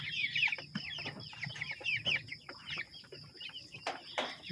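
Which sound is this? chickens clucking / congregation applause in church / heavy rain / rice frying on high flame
chickens clucking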